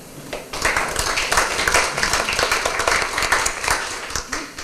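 Audience applause fills a candidate forum in Salina, a steady wash of many hands clapping close and loud for nearly five seconds without pause.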